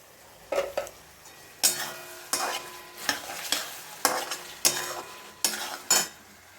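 Chili powder and spices frying in a pan for chicken ghugni while being stirred, with about ten sharp scraping strokes in a loose rhythm over a soft, steady sizzle, heard close and with no talking.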